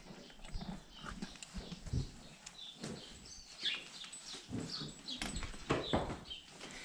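Horses being hitched to a plow on a farm, soft irregular hoof clops and shuffling on the ground, faint and distant, with birds chirping in the background.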